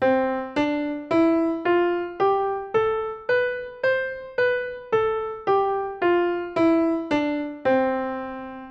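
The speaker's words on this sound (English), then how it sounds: "Major scales sound like this." A major scale played one note at a time, fifteen evenly spaced struck tones stepping up and back down, each ringing and decaying before the next, clear and alone.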